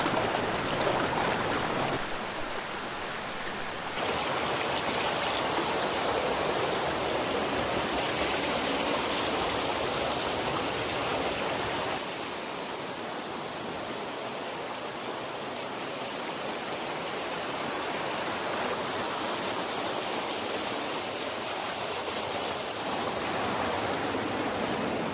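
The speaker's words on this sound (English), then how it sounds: "we have arrived at Becky's Falls. It's quite a complicated waterfall, really, but it's very pretty and continues all the way down the river there" Becky's Falls, a multi-step waterfall continuing down a river on Dartmoor, gives a steady broadband rush of falling and flowing water, close and constant throughout with no voices.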